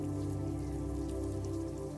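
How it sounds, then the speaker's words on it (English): Steady rain falls in an even, dense patter with no pauses, loud and close, alone without any voices. "simply watch the rain"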